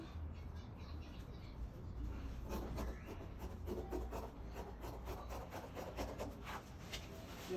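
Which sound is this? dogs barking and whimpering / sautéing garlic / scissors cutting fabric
scissors cutting fabric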